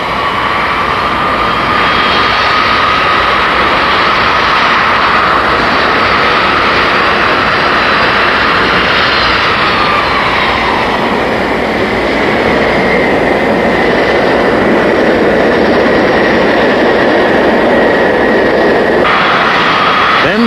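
A 1969 Boeing 747 jumbo jet taxis through a series of tight turns, its engines producing a loud, steady, continuous roar with a high whine that shifts in pitch as it maneuvers.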